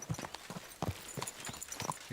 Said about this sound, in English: Ride, horse! Ride!